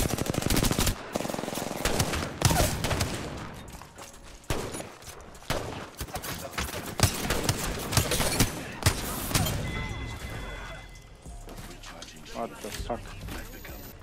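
Sustained automatic gunfire from Apex Legends, dense bursts and rapid shots filling most of the stretch, loud and close, with a voice talking over parts of it.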